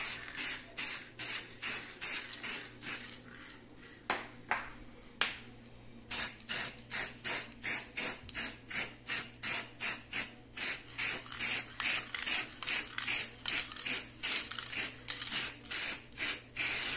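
Aerosol spray paint hissing onto a toaster oven to turn it matte black, in about two dozen short rhythmic bursts with a few brief pauses, close and steady, no voices.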